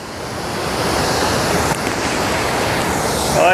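Jamjir waterfall in Gujarat roars in a steady, loud rush of falling water, with gusts of wind buffeting the microphone.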